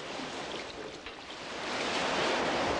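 Waves wash steadily against the water's edge as a fishing boat is pushed out, a continuous broadband surf hiss that builds louder toward the end, with wind noise and no voices.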